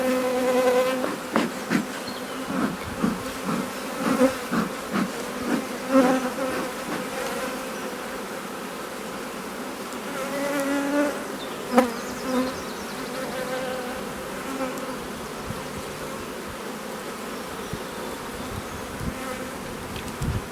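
Honey bees buzz in a thick, continuous hum while being shaken off hive frames, with occasional louder passes and soft knocks of wooden frames.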